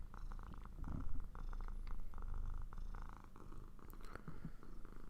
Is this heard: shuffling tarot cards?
no